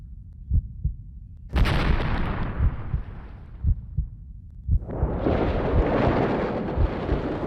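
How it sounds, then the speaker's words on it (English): An ear-piercing explosion from the game Chaos;Head Noah, a sudden loud blast bursting in over deep rhythmic thuds, with a second rumbling surge of noise following, set against low heartbeat-like pulses. "There was a ear-piercing explosion and then a shockwave, even bigger than the others, assaulted me"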